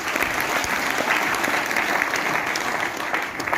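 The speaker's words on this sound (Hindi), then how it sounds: "ताली बजाओ इसके लिए।" An audience at a business seminar in Meerut breaks into loud, continuous applause, many hands clapping together in a steady close wash of sound.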